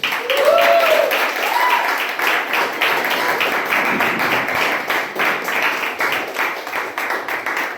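Members at a Toastmasters club meeting applaud to welcome their club president, a sustained crowd clapping with a brief high voice or whoop near the start and voices murmuring beneath.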